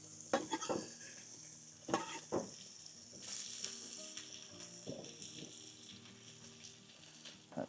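Salt pork and onion frying in a pan for Newfoundland fisherman's brewis: a soft, steady sizzle broken by a few sharp utensil clanks and scrapes against the pan.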